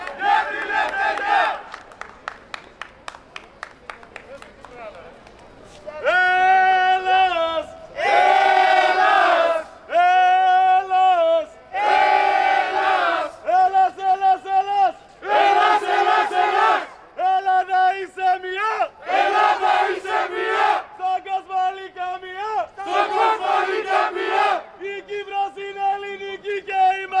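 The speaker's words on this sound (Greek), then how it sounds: "φώναζαν συνθήματα κρατώντες σημαίες" A crowd holding flags at a rally in Eleftherias Square shouts slogans together in loud, rhythmic chanted bursts. Short pauses separate the shouts, and the chanting swells again and again over about half a minute.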